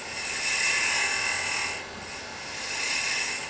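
Carving tool cutting wood on a Christmas tree, a continuous close scraping hiss that dips briefly in the middle before resuming.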